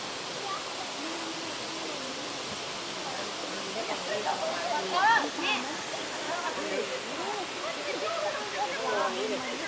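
A waterfall gives a constant broadband rush of falling water, moderately loud and unbroken, while a voice and some chirpy sounds are heard faintly over it.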